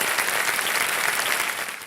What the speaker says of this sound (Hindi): एक बार जोरदार तालियां हो जाए अर्चना जी के लिए।